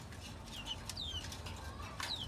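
Domestic chickens in a cage give several short, faint bird calls over steady low background noise, with no talk.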